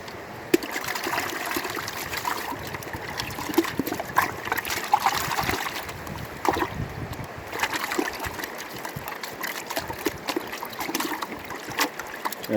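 Glacier water runs through a gold sluice box in Alaska, a continuous close trickling and splashing with small irregular spatters throughout.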